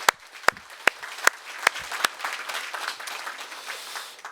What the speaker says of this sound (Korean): 네, 우리에게 빛으로 오신 예수님께 한번 감사의 박수를 드리겠습니다.